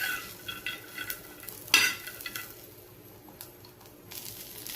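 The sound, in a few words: roasted peanuts stir-fried with chillies and garlic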